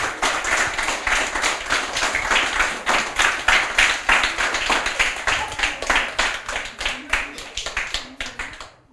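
Children clapping for classmates after their book presentations, a room full of distinct, fairly close handclaps in a quick uneven rhythm that fades out at the end.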